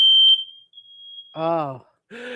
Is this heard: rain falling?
no